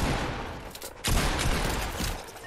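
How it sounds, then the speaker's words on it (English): Gunfire in Fortnite, rapid repeated shots in close succession with a sharp loud blast near the middle, busy and near. "How many times do I need to shoot you?"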